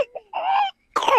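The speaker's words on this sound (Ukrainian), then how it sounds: "Так, кіцюня, не кашляй." A cat gives a few short, close, rough coughing hacks with brief gaps between them.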